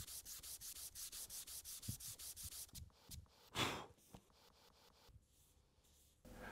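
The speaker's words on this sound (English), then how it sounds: "Keep sanding until you've removed all the scratches from the 120 grit." Steady back-and-forth strokes of sandpaper on cured epoxy resin, quick and rhythmic, then slower scattered rubs and pauses, close and fairly quiet with no talking.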